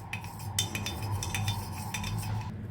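A spoon stirs masala buttermilk in a vessel, giving repeated light metallic clinks and scraping taps at a quick, uneven rhythm, close and moderately loud, with no voices.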